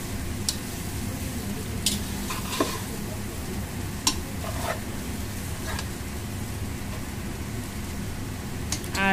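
Fried rice with fried sausage pieces sizzles steadily in a home kitchen pan while a utensil stirs and scrapes through it, with occasional sharp clinks of metal against the pan over the continuous frying hiss.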